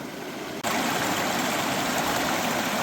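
Water flows steadily and slowly through a nearly flat gold prospecting sluice in Washington state, a continuous close, broadband rushing and trickling wash that fills the clip after a brief quieter opening.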